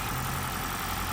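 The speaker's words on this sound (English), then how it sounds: "what you're hearing is basically the engine ticking over because of the compressor from the air conditioning" A 2021 Toyota Corolla ZR Hybrid idles with its air-conditioning compressor running, giving a steady, low, continuous engine hum with broadband noise and no distinct knocks, heard alone for about a second.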